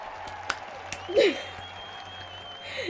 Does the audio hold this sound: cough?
no